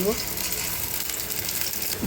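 Onion paste sizzles in hot oil in a wok as puti fish bhuna is cooked, a steady close frying hiss with faint stirring scrapes.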